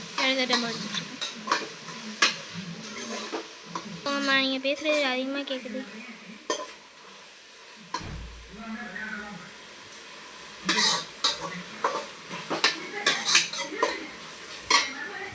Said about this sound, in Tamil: இப்போ நம்ம புதினா கொத்தமல்லி போட்டு கலரிக்கலாம்